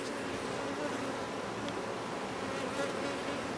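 Honeybees hum steadily and densely around an open hive during queen rearing, a close, continuous buzz with no pauses.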